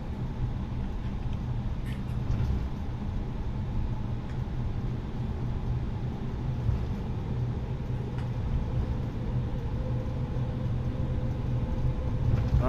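Airbus A320 jet engines spool up as the aircraft turns onto the runway in Microsoft Flight Simulator, a steady low broadband roar with a faint rising whine, constant and continuous.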